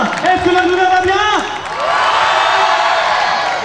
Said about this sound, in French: Je vous demande un tonnerre d'applaudissements pour Georges